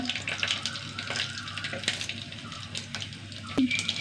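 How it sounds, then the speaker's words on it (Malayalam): Mustard seeds and dried red chillies sizzle and crackle in hot coconut oil in a kitchen, a steady bright hiss with scattered pops, close and moderately loud, with no talking. "ഒന്ന് ചൂടാവട്ടെ കടുക് ഇട്ട് കൊടുക്കട്ടെ രണ്ട് വറ്റൽമുളക്"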